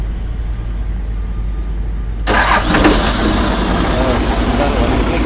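A 5-ton TCM forklift engine cranks and catches after its power cable and ground were replaced, a sudden loud start that settles into a steady mid-pitched idle; faint talk sits beneath it.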